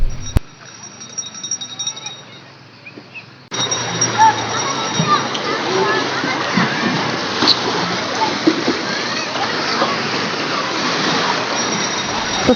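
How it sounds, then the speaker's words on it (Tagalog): People splash and swim in the sea, a busy wash of water noise with children's voices and chatter mixed in, after a brief quieter opening stretch. "maliligo muna kami ng dagat"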